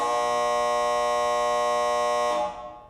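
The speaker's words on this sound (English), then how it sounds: "that buzzer means that is all the time we have for segment number 1" A loud, steady electronic buzzer ends a segment of a college basketball talk show, sounding continuously for over two seconds, then cutting off abruptly, leaving a brief fading ring.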